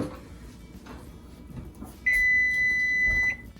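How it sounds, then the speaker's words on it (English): A kitchen timer sounds in a home kitchen during cheesemaking with goat's milk, a single sustained high electronic beep lasting over a second, loud and close above faint background clatter. "the timer went off for our 15 minutes of setting this out, or setting in ice water"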